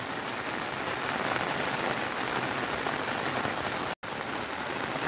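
Heavy monsoon rain pours steadily over a Konkan village in May, a dense, even hiss of drops on surfaces with no voices, broken only by a split-second dropout near the end.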